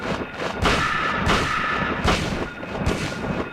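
Gunshots ring out one after another in the Silent Hill survival horror game, loud sharp cracks at irregular intervals over a noisy background with no speech.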